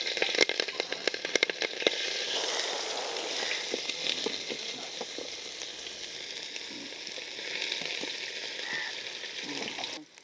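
Three green chillies fry in oil in a pan on a clay stove, giving a steady, even sizzle with fine crackles that lasts throughout and cuts off at the very end.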